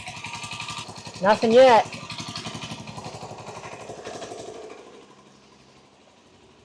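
A Honda CT90 motorcycle idles nearby after a head gasket repair, a steady low putter that fades toward the end, with someone talking briefly over it.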